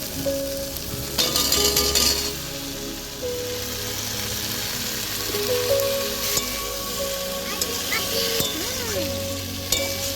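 Taro (kochur mukhi) is added to a pan of sautéed ingredients and fries with a steady sizzle, broken by spoon knocks and stirring scrapes against the pan.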